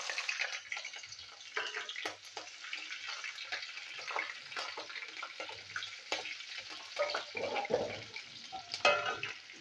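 Green chillies fry with mustard seeds in hot oil, making a continuous crackling sizzle mixed with scraping stir strokes and occasional louder pops, close and without speech.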